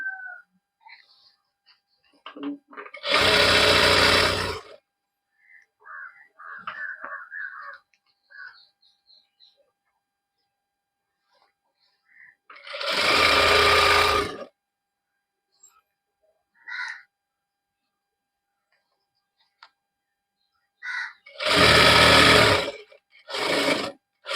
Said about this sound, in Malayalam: ഇതുപോലെ വലിച്ചു പിടിച്ചിട്ട് സ്റ്റിച്ച് ചെയ്യാം